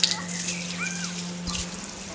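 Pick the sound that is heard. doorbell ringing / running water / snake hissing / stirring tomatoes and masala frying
running water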